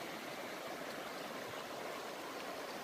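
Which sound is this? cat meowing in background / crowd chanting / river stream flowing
river stream flowing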